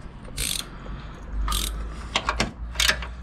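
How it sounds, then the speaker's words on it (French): Wishbone bolts being removed beneath a Fiat Scudo 2.0 HDI van, with bursts of ratcheting wrench clicks and metallic scraping in several short runs, close and fairly loud. "je suis en train d'enlever tous les boulons des triangles"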